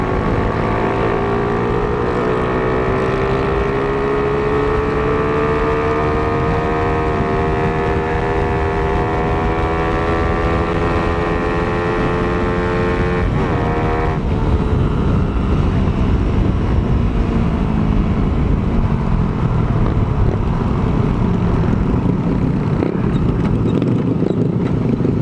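A Honda XRM motorcycle engine runs hard, its whine climbing steadily as it revs up, then dropping sharply partway through into a rougher, lower drone with wind noise, loud and close throughout.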